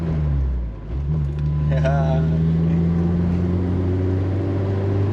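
Honda S2000 engine drone inside the car during a manual gear shift, a steady low hum that dips briefly as the shift happens then resumes, with people talking over it.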